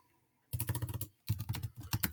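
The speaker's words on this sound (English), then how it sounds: "I need to make sure my typing's all right here" Typing on a computer keyboard in a classroom setting: two bursts of rapid, close key clicks, separated by a short pause.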